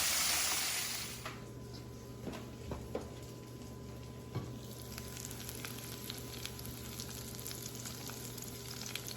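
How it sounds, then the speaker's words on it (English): Chicken sizzles and crackles steadily in hot oil during deep frying, with scattered small pops, heard up close and fairly quiet. "Chicken frying, it's the second batch"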